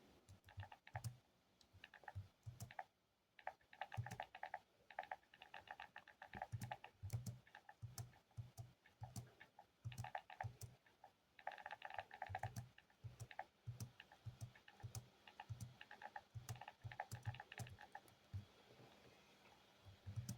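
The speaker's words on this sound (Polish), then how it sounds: "żeby się wsłuchać jak ta klawiaturka pięknie brzmi" Typing on a clicky mechanical computer keyboard, a steady run of sharp, close key clicks in quick irregular bursts with a brief pause near the start, heard alone without voices.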